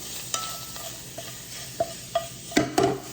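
Sausage being stirred in a sizzling pan for a cheesy dip, a low steady sizzle punctuated by about six sharp spoon scrapes and clanks against the pan, close and distinct.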